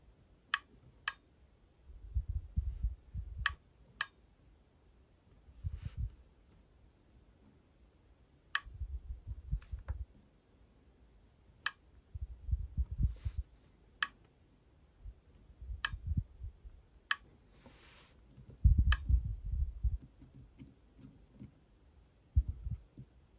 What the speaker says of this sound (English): will keep clicking multiple times in a row, switching back and forth